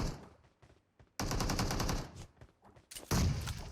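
Bursts of AK rifle fire in PUBG Mobile rattle out in two loud, rapid strings, separated by quieter gaps with distant shots and clatter.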